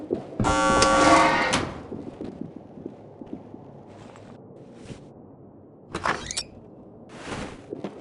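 Door opening and a flashbang grenade going off in the SWAT 4 video game: a loud sustained burst near the start, then sharper clanks and a swishing bang later, with quiet room tone between.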